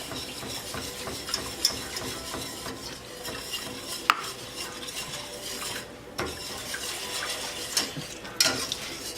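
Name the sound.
whisking casserole mixture in a bowl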